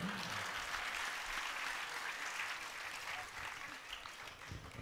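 A crowd at a Hindi spiritual discourse claps in sustained, dense applause that holds steady and then slowly eases off, filling the hall.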